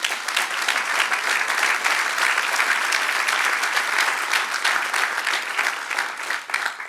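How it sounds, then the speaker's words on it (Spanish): Steady, dense applause from a church congregation fills the space, loud and continuous for several seconds with no break, a close wash of many hands clapping together. "denle el aplauso al Señor."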